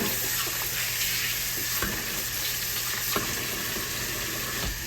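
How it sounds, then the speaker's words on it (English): Hands are washed under a running kitchen tap, a steady close hiss of flowing water splashing without a break. "let me wash my hands off just a little here"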